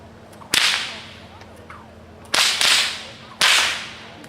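A bullwhip cracking outdoors at a western museum demonstration: three loud, sharp pops at irregular intervals, each followed by a brief hiss of air, with no talk over them.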